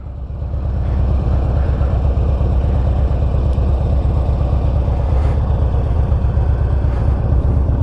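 2009 Harley-Davidson Street Glide with 4.5-inch Sharkroad exhaust riding along a back road, a loud, steady low V-twin rumble with constant exhaust throb and wind, sustained throughout.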